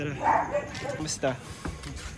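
A dog barks and yips a few times at mid distance in a noisy outdoor setting, the short barks mixed with people talking nearby.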